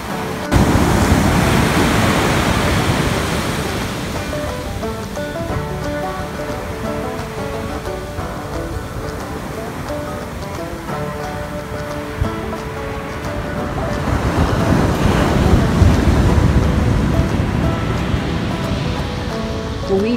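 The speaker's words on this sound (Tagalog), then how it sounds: "naririnig namin pag sobrang lakas ng alon" Ocean waves on a seaside beach, a loud, continuous wash of surf that swells at the start and again later, then eases between surges.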